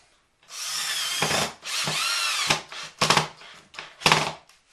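A power drill drives a couple of screws in a series of whirring bursts, two long runs followed by several short pulses and pauses, close and clear with no talking.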